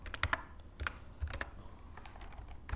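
Close computer keyboard typing, a few sharp clicks in quick irregular bursts separated by brief pauses, with no talking.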